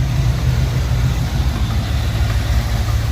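A Ford Foxbody just back together with a new third gear and steering rack idles steadily and close, a loud even low rumble with no voices.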